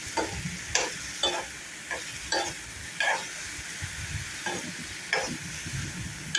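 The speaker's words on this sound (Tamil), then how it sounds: "ஒரு 7 மினிட்ஸ் அப்படியே கிண்டிக்கலாம்." Sliced bitter gourd fries in hot oil with a steady sizzle, while a spatula scrapes and stirs the pan in regular strokes, close and moderately loud with no talking.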